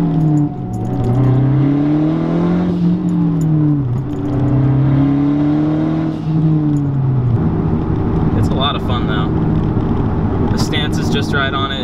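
A Mazdaspeed3 accelerates hard under turbo boost, engine tone climbing through rising sweeps with a gear change, close and loud inside the car, with someone talking over part of it.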